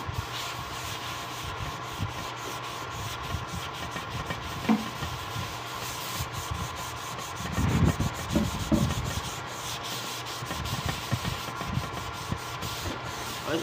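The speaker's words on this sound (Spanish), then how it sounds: "Vamos a darle también una lijada" Wooden drawer fronts are sanded by hand in a continuous scratchy rubbing, fairly faint and steady with a brief louder stretch partway through, and no talking.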